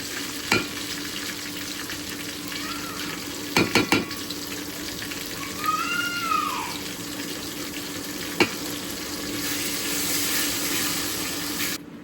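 Whole spices frying in a pan with tomato and ginger-garlic paste for a beef and pumpkin curry, a low steady sizzle broken by a few sharp utensil clanks and a short scraping stir.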